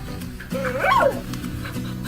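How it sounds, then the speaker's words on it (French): Interactive robot dog designed as an empathy companion for seniors gives a single synthetic whimpering bark-like yelp, close and clear, rising and falling in pitch over a steady low background hum. "Il s'agit d'un robot chien interactif ou, comme certains l'appellent, une peluche d'empathie pour seniors."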